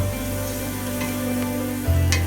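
Garlic sizzles steadily in a pan for chili, a close continuous frying hiss with faint scraping as it is stirred, no voices over it.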